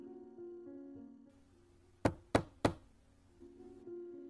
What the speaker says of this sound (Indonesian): Setelah bapak ini tadi mengetuk pintu